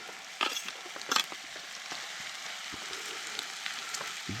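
Potatoes frying with bacon in a pan over a bushcraft campfire, a steady close sizzle with a couple of sharper crackles and stirring clatters near the start.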